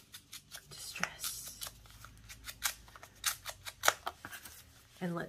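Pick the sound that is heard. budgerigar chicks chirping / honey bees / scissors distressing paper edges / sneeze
scissors distressing paper edges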